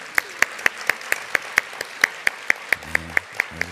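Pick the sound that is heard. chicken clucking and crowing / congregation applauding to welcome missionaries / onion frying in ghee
congregation applauding to welcome missionaries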